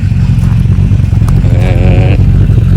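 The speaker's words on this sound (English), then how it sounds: "you just get that lovely V8 burble" Rover SD1 V8 engine burbling through its exhaust at close range, a steady loud low rumble that swells into a rising rev partway through before settling back.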